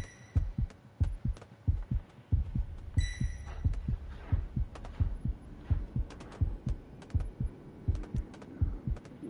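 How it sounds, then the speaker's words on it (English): A loud video-game heartbeat pounds in a steady, rapid double-thump rhythm throughout, with occasional short electronic chirps and beeps over the top. "Normally, if your heartbeat's loud, you get found."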